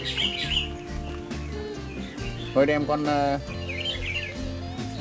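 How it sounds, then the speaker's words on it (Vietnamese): Red-whiskered bulbuls carrying food give repeated bright chirps and short calls, near and moderately loud, mixed with music and a voice talking. "Rất nhiều con cắp mồi, từ hôm giờ rất nhiều chim cắp mồi."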